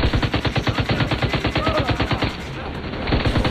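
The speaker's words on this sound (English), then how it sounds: "Let's go ahead and toss the turret out here." A deployed automated turret in The Division 2 fires a long, steady burst of rapid gunfire, loud and close, each shot evenly spaced before the fire briefly eases off and resumes.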